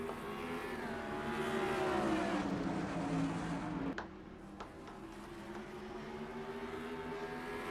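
Race car engines roar at Bristol in a racing video game from the NNSCRA Castrol GTX Cup Series Food City 500, a pack of cars droning loudly together with pitch shifting as they accelerate and pass.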